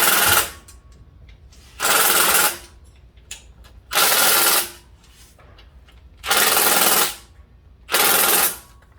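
Ratchet tightening the neutral safety switch on a 2004 Dodge Dakota, heard as five loud bursts of rapid clicking, each about a second long, separated by short quiet pauses.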